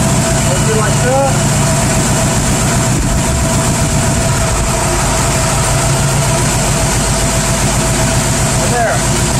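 A car engine idles steadily in four-cylinder mode during a fuel and spark check, a continuous low rumble with a faint speaking voice occasionally over it.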